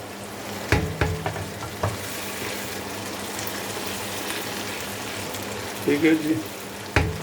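Chopped tomato fries with ginger garlic paste in a hot pan while cooking Pakistani Punjabi-style sarson ka saag. A steady bright sizzle runs throughout, with a few utensil clatters and a brief spoken remark.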